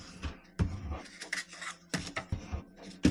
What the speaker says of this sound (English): If you don't have that, you could just do it with the scissors like this.